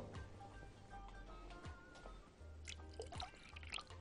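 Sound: water poured into eggs for batter

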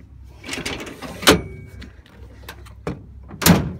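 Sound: Ford F-150 tailgate step folding back into tailgate

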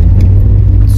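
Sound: Daihatsu Copen kei car accelerating in first gear

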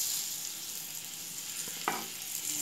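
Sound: scored eggs frying in pan with turmeric and chili powder

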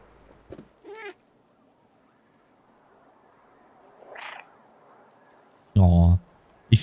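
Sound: cat meowing in video game Stray

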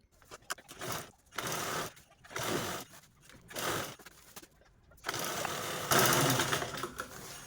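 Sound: sewing machine stitching a zipper onto fabric

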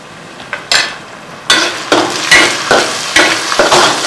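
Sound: onions frying with salt for chicken liver fry

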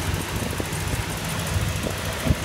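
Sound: car engine idling

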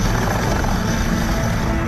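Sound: Indian Army Dhruv helicopter flying

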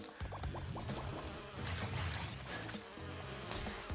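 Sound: bees buzzing in video game Crash Bandicoot 2

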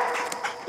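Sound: puppy dog whimpering

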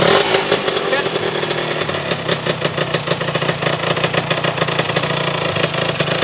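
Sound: motorcycle engine running while being ridden

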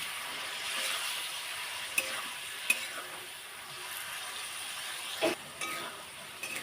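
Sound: stirring boiled water lily stems with spices in a pan

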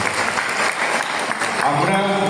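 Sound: applause for the MLA

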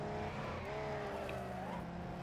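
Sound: car engine in Wreckfest video game, V30 banger

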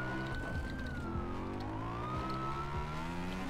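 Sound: police car siren

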